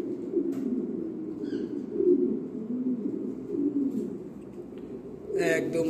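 A large pigeon coos in low, throaty rolling phrases, repeated several times close by, with a few faint higher chirps and a short rustle near the end. There is no talk.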